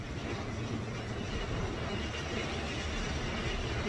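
Steady, loud rumble and rattling roar of a subway train in motion, continuous throughout with no pauses or voices.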